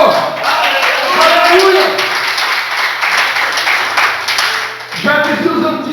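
A church congregation bursts into a sustained wash of clapping that fades briefly and picks up again, while a voice calls out loudly over it.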